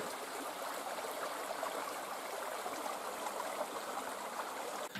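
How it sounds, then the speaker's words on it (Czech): The Černý potok, a small mountain stream in the Orlické hory that runs into the Orlice, flows with an even, continuous rushing babble, close and unbroken. "Zmíněný Černý potok."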